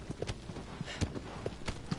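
Rhythmic clip-clop of a horse's hooves in the Shadow of the Colossus PS4 remake, steady trotting beats close and clear with no talk over them.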